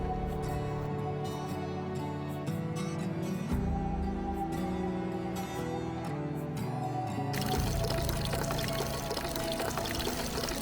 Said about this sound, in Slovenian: Tako noro, iz 2 pip naenkrat.